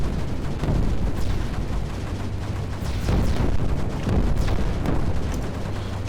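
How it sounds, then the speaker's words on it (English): Mortar fire in the strategy game Creeper World 4, a dense barrage of overlapping booms and thuds rolling continuously and loudly without pause. "There's a lot of mortars."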